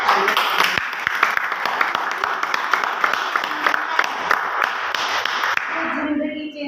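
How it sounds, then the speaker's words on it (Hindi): At a motivational meeting, an audience claps loudly for an honoured guest, a dense patter of hands with sharp individual claps that fades out after several seconds as a voice takes over. "उनके लिए भी जोर से तालियां"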